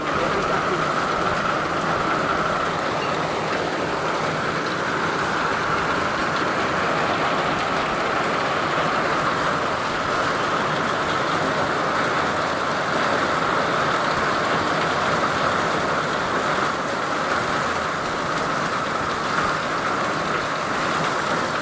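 Dense, continuous roar of heavy rain pouring down at night, a constant wash of noise with no pauses or voices.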